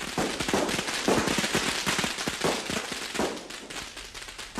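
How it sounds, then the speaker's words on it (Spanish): Firecrackers and fireworks set off to celebrate a baby boy's birth in China: a dense, continuous crackle of rapid bangs and pops at fairly close range, with no voices. "cuando nace un varón hay fuegos artificiales"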